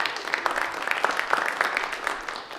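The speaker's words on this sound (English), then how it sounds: "give them a round of applause" An audience at a school district meeting gives a round of applause, brisk, fairly close clapping with distinct individual claps running for a couple of seconds.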